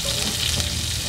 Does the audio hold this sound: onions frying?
yes